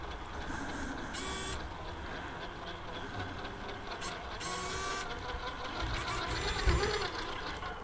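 Traxxas RC winch motor pulling to hold up a 2021 Bronco, a steady whirring, buzzing drone running continuously throughout at close range, with small mechanical ticks and clicks.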